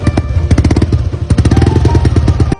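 A superstock motorcycle engine runs after repair, close and loud, its rapid, uneven pulsing beats firing in clusters with brief blips of throttle throughout.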